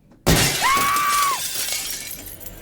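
Glass smashing in The Devil In Me horror game: one sudden loud crash of breaking glass, followed by a ringing shimmer and a scatter of falling shards that fades out slowly.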